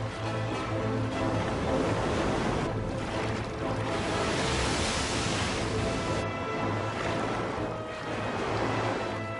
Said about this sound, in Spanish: Agitada por el viento y las olas, la carabela española se rompe en pedazos.